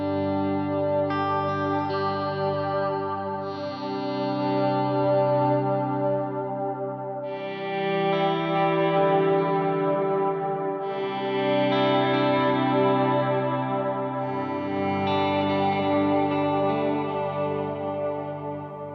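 Ambient electric guitar swells played through Strymon Thermae delay and Belle Starr overdrive pedals on a Strymon Iridium pedalboard, slow sustained chords rising and fading in long washes with heavy echo, alone and steady throughout.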